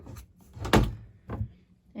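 A craft room storage drawer slides open or shut, giving a few short knocks and a sharper thunk in the middle, close by and with no talk.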